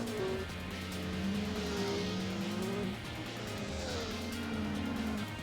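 Race car engine in Gran Turismo 4 holding a steady high whine with shifting pitch, tyres squealing as they are pushed hard through corners.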